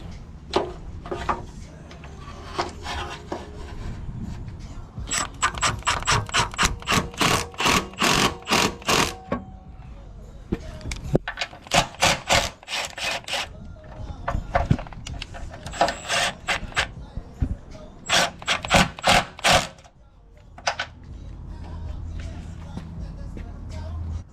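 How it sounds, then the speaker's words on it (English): A ground cable being bolted up in a Honda K20-swapped EF sedan, with a ratchet clicking in rapid bursts of evenly spaced ticks, pausing between runs, close and fairly loud with no talk. "So let's go ahead and get this bolted up real quick."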